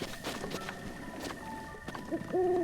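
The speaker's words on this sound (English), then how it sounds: "I hear a lot of owls, too." Owls hoot in a Breath of the Wild game landscape, a soft two-note call near the end over a faint ambient bed with scattered light footstep-like taps.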